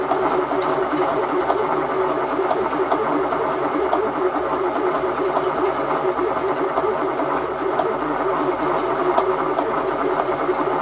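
A small electric motor of a Weaver YW-100 yarn winder whirs steadily at high speed with no yarn being touched, a constant buzzing drone that never changes pitch or stops.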